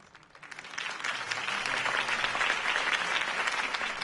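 A crowd in a Batman video game applauds a campaign speech by Harvey Dent, a dense wash of clapping that swells from quiet to full within the first second and holds steady, heard at a slight distance.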